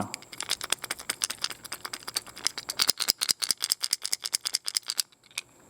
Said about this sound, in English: a lot more of the sound is obviously coming from the two ball bearings there